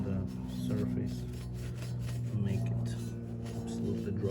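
Repeated scrubbing strokes on a CLS 55 AMG engine's gasket surface with degreaser, a rhythmic rasping rub under a steady low hum, close and moderately loud.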